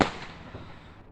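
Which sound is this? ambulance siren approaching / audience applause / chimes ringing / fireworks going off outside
fireworks going off outside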